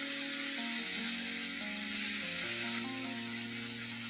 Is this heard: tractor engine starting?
no